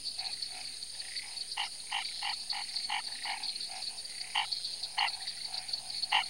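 Breeding male frogs calling at night in the rainy Pantanal, a chorus of short repeated croaks in irregular bursts over a steady high-pitched insect-like drone, fairly close and clear.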